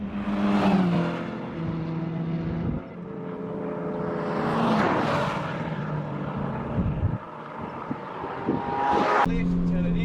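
A Toyota 86 accelerates around the Wakefield Park race track, its engine rising and falling loudly through throttle changes and shifts, with a voice talking over the noise at times.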